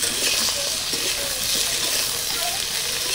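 Slit green chillies and chopped tomato go into brinjal and potato frying in oil, producing a bright, steady hiss and sizzle with a few soft stirring clatters and no talking.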